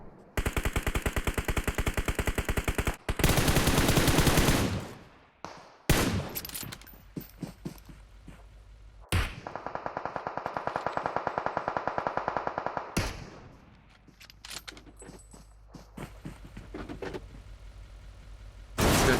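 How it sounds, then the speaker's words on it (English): Rapid bursts of automatic gunfire and single shots in a PUBG Mobile esports league match, loud and close with sharp repeated cracks, several volleys broken by short pauses, an engine faintly underneath. "We've got some shots already flying up"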